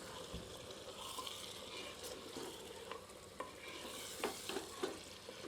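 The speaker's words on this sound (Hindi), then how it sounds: "एक बार अच्छी तरह करछी चलाकर सबको मिला देते हैं" A ladle stirs chicken jholo in a clay pot, giving soft scraping swishes and wet sizzling under a steady low frying hiss, with a few sharper scrapes toward the end.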